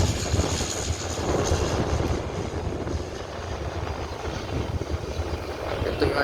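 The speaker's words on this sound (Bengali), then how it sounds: "এসেছে ড্যাশ মডেলের একটি বিমান বিমানটি অনেক আগের পুরনো মডেলের বিমানটি" An old Dash-model propeller airliner lands on an airport runway, giving a continuous broad engine roar at moderate distance that holds steady throughout.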